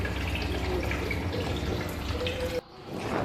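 Water pours steadily into a cooking pot, a continuous splashing stream that stops abruptly near the end, then resumes faintly.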